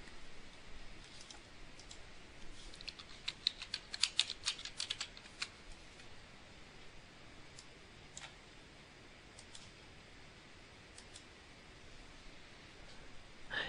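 Light keystrokes on a computer keyboard, soft scattered clicks in uneven bursts, densest early on and then sparse, faint and close in a quiet room.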